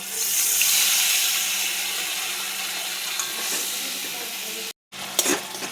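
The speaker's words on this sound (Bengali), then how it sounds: "দিয়ে দিলাম জল" Water goes into a cooking pan holding mustard paste, a steady rushing hiss and bubbling at close range that eases gradually, cuts out for a moment near the end, then resumes with light clatter.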